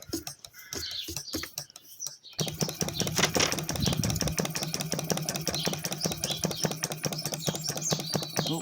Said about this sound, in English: give the flywheel a spin